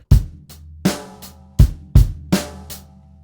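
A sparse drum groove: punchy kicks and snare hits with a crisp cymbal tick between, a steady one-bar pattern played alone and fairly close.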